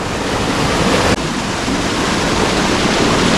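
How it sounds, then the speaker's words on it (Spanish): A waterfall in the Tajo de Ronda gorge roars as a dense, steady rush of falling water, loud and close from just above the cascade, with no voices. "justo hemos salido encima de la cascada"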